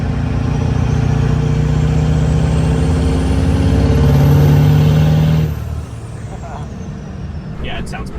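A 700 HP 7.3 Powerstroke diesel truck on a race tune idles with a loud, lumpy loping rumble close by. It holds steady, then drops to a quieter idle toward the end.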